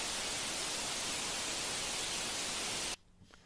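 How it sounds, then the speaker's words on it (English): White noise resampled in Ableton Live, a steady full-band hiss for about three seconds that cuts off abruptly into near silence. "And we have our white noise."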